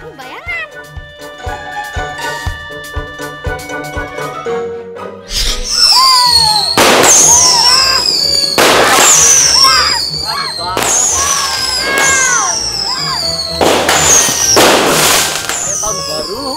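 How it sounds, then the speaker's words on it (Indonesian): New Year fireworks pop and crackle in a series of loud bursts, with busy talk and excited sounds mixed over them. "Ini kembang api bayangan."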